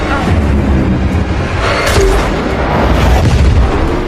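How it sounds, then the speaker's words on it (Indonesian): A bazooka blast aimed at Furiosa in a brutal wasteland action film: a dense, rumbling explosion and booming roar filling the scene continuously, loud and chaotic with no clear separate shots. "Ia berhasil mengambil sebuah bazooka dan langsung menembakkan ke Furiosa."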